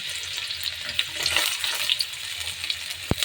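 Raw onion frying in oil with black cumin and grated ginger and garlic, a soft steady sizzle with light crackles up close, a sharp utensil click near the end, no speech.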